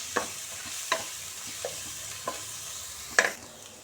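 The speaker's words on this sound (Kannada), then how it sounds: "ಎಲ್ಲ ಚೆನ್ನಾಗಿ ಒಂದು ಫ್ರೈ ಆಗೋಣ ಹಸಿ ವಾಸನೆ ಹೋಗಬೇಕು" Chili powder and turmeric frying in a pan for a gobi keema: five sharp scrapes of a spoon stirring, spaced unevenly over a faint, steady sizzle, with no voices.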